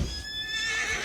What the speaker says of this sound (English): So get a horse out, any horse,